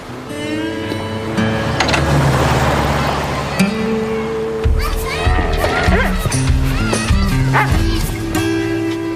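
A dog barks and yips repeatedly amid busy background sound, with people talking over it.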